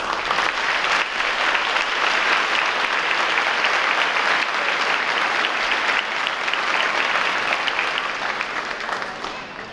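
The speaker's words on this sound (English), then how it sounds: "We give a round of applause." An audience at an eighth-grade awards ceremony breaks into loud, sustained applause lasting nearly ten seconds, a dense wash of clapping that tapers slightly at the end.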